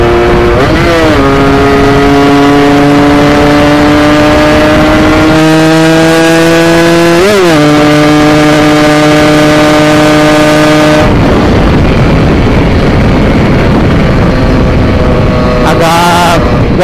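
A two-stroke motorcycle engine running on racing two-stroke oil revs hard and close, holding a loud buzzing pitch with sharp blips and drops, alone without talk.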